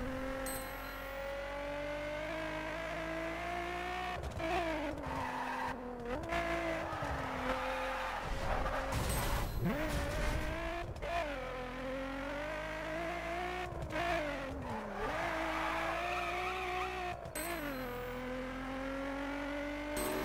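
Ford Mustang racing in The Crew video game, its engine droning and rising through revs as it corners, with brief tire skids between gear changes; loud and continuous, no talk.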